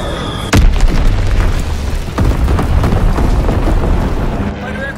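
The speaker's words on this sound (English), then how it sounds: "Dropping Azon bomb" Bomb blast from a bombing run in Call of Duty: a sudden loud, close boom followed by a second, softer detonation about two seconds later, with rolling rumble and debris noise trailing off.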